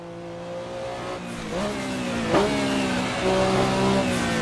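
Race car engine in a VR racing game, a more difficult car to handle, revving steadily with rising and falling pitch as gears shift, loud and continuous throughout with a brief sharp peak midway.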